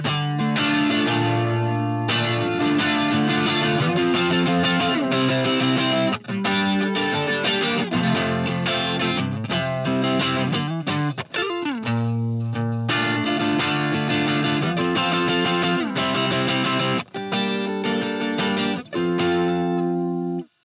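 Electric guitar riffs played through distortion and a chorus effect: loud, thick chords and single-note runs with brief breaks between phrases, heard alone with no talking.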